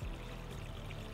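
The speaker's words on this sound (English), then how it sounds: "Yeah, with the waterfall going." A backyard waterfall splashes in a steady, quiet, unbroken rush, heard alone with no talking.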